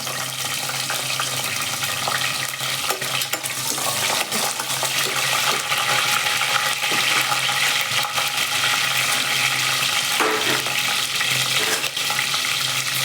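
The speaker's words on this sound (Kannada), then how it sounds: "ಹಸಿಮೆಣ್ಸಿಕಾಯಿ ಒಗ್ಗರಣೆಗೆ ಹಾಕ್ತೀನಿ" Continuous loud sizzling and crackling of green chillies frying in hot tempering oil, with occasional clinks of stirring throughout.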